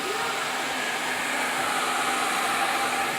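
A hair dryer blows steadily and loudly at close range while hair is blow dried during a bald fade haircut, with an unbroken airy roar and no talking.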